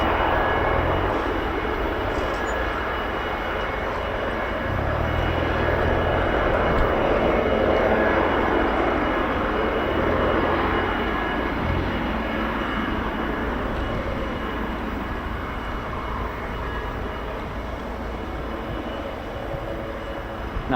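A reconnaissance aircraft arriving at RAF Fairford during the Royal International Air Tattoo, its engines giving a loud, steady broadband roar that holds for about twenty seconds without a break.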